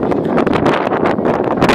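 Strong wind buffets the microphone on a seaside pier in Portorož on a sunny day, a continuous loud roaring rush with gusty surges and no talk.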